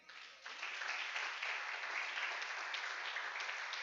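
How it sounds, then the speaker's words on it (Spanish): A church congregation breaks into applause during a sermon, the clapping swelling in after a brief quieter start and continuing as a dense, sustained wash from many hands. "Denle un aplauso al Rey."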